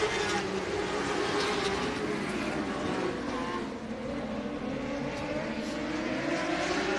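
Race cars roar on an oval track at the start of a race, a dense, continuous engine drone from several cars heard from a distance, with a race announcer talking over it.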